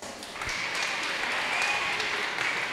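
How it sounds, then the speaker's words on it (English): Audience applause for a former president at a Sandor Youth Day 2024 gathering, a steady dense wash of clapping holding at even loudness throughout, with a faint thin tone briefly above it. "Let's give her a round of applause."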